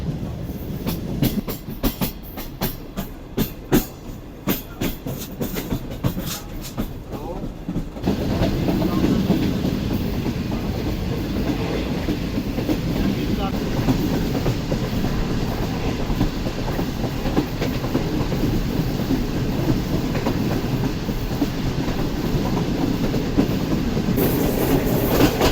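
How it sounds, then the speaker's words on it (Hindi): A passenger train approaches Kadar railway station in Karachi, a loud, continuous rumble of rolling wheels and carriages with rhythmic clicking early on, heard from aboard the train. "ट्रेन अप्रोच बना रही है कदर रेलवे स्टेशन पर।"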